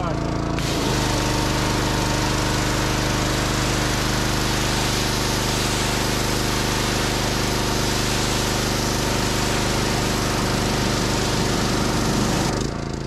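Pressure washer spraying an RV roof air conditioner unit, a loud continuous motor drone with steady hissing water spray running unbroken and close for the whole stretch.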